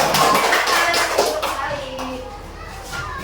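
Schoolchildren clap for a presenting group in a classroom, a brief burst of hand claps mixed with lively children's chatter and noise throughout.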